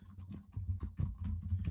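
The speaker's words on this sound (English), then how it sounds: "I love typing live." Rapid typing on a computer keyboard, close and fairly loud, with irregular bursts of key clicks and a few heavier strokes, no voices over it.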